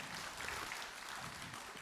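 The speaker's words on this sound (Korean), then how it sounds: "박수로 맞으세요." Faint, steady applause from an audience at a televised Buddhist Q&A program, a soft continuous patter of clapping hands with no speech over it.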